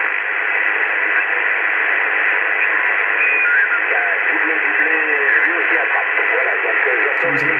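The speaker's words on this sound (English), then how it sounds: "Sounds like a French station there." A French broadcast station picked up on a Vertex Standard VX1700 HF transceiver, with a faint, warbling voice emerging partway through under constant heavy static.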